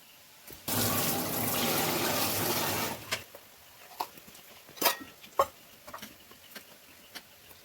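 Water from a tap runs steadily over capsicum being washed for a restaurant-style chilli dish, a dense close gush lasting about two seconds, followed by a few scattered clicks and clatters of kitchen handling.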